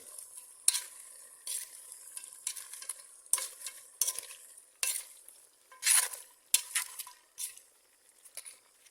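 Spoon scraping and stirring through goat stew with bay leaves and ginger in a pot, a string of irregular close scrapes and clatters, some louder bursts, with no talking.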